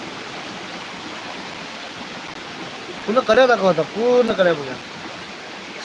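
A stream of water pours over a rocky cliff in a steady, even rush, while someone talks briefly over it partway through.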